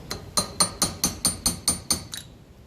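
Metal hammer blows driving a punch on the wheel hub of a 1954 Ferguson TE20 diesel tractor, about nine sharp ringing strikes in steady rhythm, close and loud with no talking.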